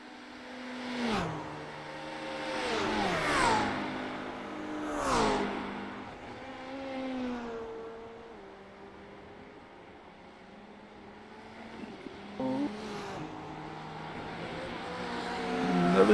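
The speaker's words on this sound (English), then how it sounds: "Here comes an hypercar, going to give them a beautiful, beautiful slipstream." Hypercar race cars in a 24-hour endurance race, several engines whining as they pass in turn with falling pitch, mid-distance and moderately loud, fading between passes.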